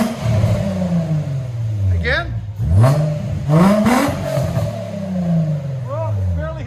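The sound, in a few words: car engine revving through new muffler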